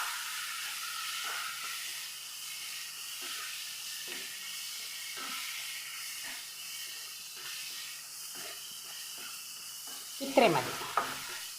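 Onion masala mixed with meat masala in a pan, stirred with steady scraping strokes over a soft continuous sizzle, ending with a louder clatter near the close; a voice speaks briefly at the end.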